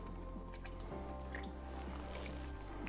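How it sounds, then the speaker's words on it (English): Wallpaper paste drains out of the paste well of a tapo fix XS 60 pasting machine, giving a steady close wet gurgle with small drips and squelches over a constant low machine hum. "While the paste is draining out of the machine"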